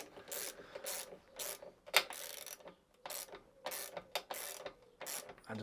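Ratchet clicking in short bursts as a bolt on a lawnmower carburetor is nipped tight, close and fairly quiet, with brief pauses between strokes.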